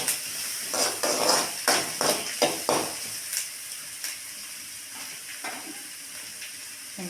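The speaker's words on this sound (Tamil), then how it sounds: "வெங்காயம் கொஞ்சம் வணங்கிடுச்சுங்க." Onion and dry red chillies fry in a pan for a drumstick-leaf kuzhambu, a close sizzle broken by a run of sharp stirring clatters that thin out toward the end.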